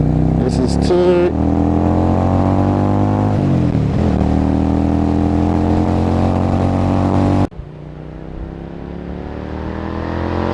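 A Yamaha Dragstar 650 motorcycle engine revs loud and close, pitch climbing and dropping as it shifts up through the gears, then cuts off sharply to a lower steady drone.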